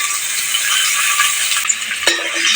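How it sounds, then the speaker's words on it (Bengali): Onions fry in oil for a North Bengal fish pulao, giving a steady, close, hissing sizzle with a brief utensil clatter near the end. "আমি পেঁয়াজ দিলাম, পেঁয়াজটা ভেজে নিব"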